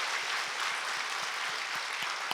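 A church congregation applauds the elementary children's department during a Sunday service, steady dense clapping with a few rhythmic thumps underneath, heard alone.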